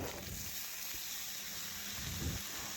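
Chopped ridge gourd and potato tipped into hot oil in a pan bring a soft, steady sizzle of frying, quiet and continuous throughout.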